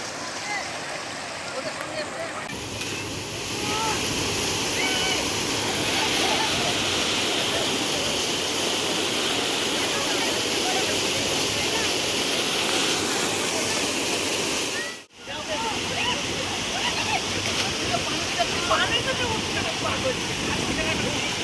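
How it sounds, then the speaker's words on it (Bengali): Clear, shallow river water at Amrapara Prakriti Vihar Park rushes over pebbles in a steady, close, full-bodied wash that carries on almost unbroken, with voices faintly heard at times. "এই বাঁশলোয়ের নদীর জল খুব স্বচ্ছ, তাই আমরা মাছ দেখতে পাচ্ছি।"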